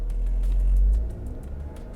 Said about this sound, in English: take off from a standstill while going uphill, because the powertrain does seem to struggle a little bit